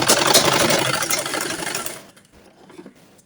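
An electric sewing machine stitches a 53-inch burqa in one loud, continuous whirring run for about two seconds, then stops, leaving only quiet handling noise. No talking is heard.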